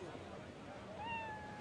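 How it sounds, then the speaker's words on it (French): A cat gives a single short rising meow partway through, fairly faint against a quiet outdoor background, among the many cats roaming ancient ruins where lions and tigres were once kept. "Vous voyez ces chats? Ils sont partout."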